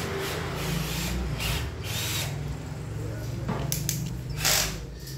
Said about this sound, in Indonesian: Ini teman kita sedang mengebor tembok untuk kabel